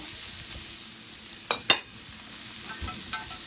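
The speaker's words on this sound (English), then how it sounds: "Just to stir fry them down." Mushrooms and onion stir-fry in butter in a pan under a soft, steady sizzle, broken by several sharp scrapes and clicks as they are stirred.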